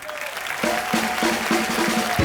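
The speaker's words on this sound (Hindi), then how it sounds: "जोरदार तालियां" Applause rises from a TV comedy show studio audience while music with sustained tones plays underneath, the clapping fairly loud and continuous throughout.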